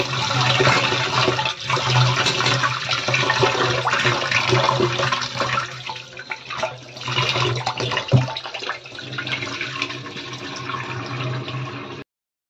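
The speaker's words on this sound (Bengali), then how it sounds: "আমি এখানে এখন চালটা ধুয়ে নেব।" Rice is washed under a running tap, a steady loud rush of water with sloshing and swirling as grains are stirred, briefly dipping and resuming, with a low hum beneath.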